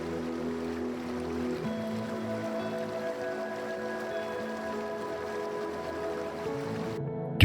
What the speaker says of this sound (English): The sounds of the grinding stones and rushing water evoke a strong sense of